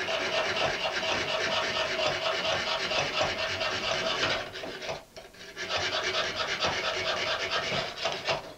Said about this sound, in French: c'est une scie faite spécialement pour tailler dans la céramique et donner quelques formes